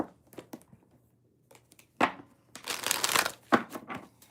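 Tarot cards being shuffled by hand, several short papery riffles and slaps, with a longer dense burst of shuffling near the end, close and crisp in a quiet room.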